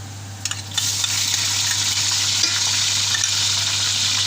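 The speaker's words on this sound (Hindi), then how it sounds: "अब हम इसके अंदर अदरक लहसुन का पेस्ट ऐड करेंगे क्योंकि हमें ज़्यादा ब्राउन प्याज नहीं चाहिए" Sliced onions frying in a pan for chicken pulao as ginger garlic paste goes in, a steady loud sizzle with a few stirring clatters at the start.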